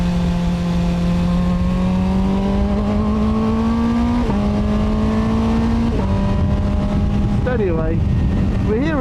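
A QJMotor SRK 921 four-cylinder super naked motorcycle rides on Austrian roads, its engine droning steadily close up as the pitch climbs through the gears, with short dips at the shifts and wind rush under it.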